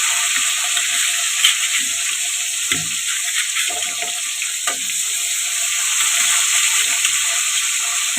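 Cooking on a gas stove produces a continuous broad hiss like frying, with scattered soft clinks and stirring knocks, fairly close and steady throughout.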